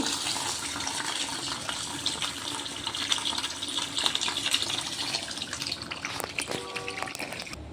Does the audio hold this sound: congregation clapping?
no